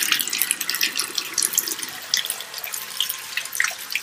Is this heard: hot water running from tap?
yes